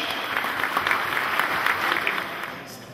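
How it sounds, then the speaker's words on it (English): An audience applauding after a speaker is introduced at a charity event, a dense, even wash of many hands clapping, steady and close throughout with no voices standing out. "I was holding the camera up while we were all clapping for me"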